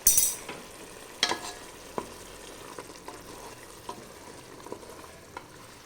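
A spoon stirs egg biryani masala mixed with curd in a pan, giving scattered scraping clicks and taps over a faint, low sizzle, fairly quiet throughout.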